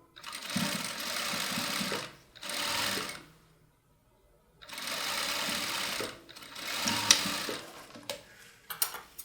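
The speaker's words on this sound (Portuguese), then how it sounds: "eu vou lá na máquina reta e vou passar uma costura aqui para unir a parte da saia no cos" Straight-stitch sewing machine joining a skirt to its waistband, running in several bursts of steady, close mechanical whirring separated by short pauses, with faint clicks at the end.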